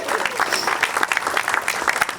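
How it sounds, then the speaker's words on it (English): An audience at a benefit speech claps in a dense, fairly loud burst of applause that fills the whole moment, a few voices faintly mixed in. "Give a round of applause"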